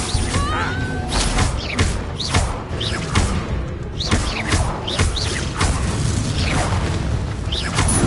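An Incendio fire spell is cast during a Hogwarts Legacy battle, heard as loud, dense booms, whooshes and crashing impacts that overlap continuously in the game's combat effects.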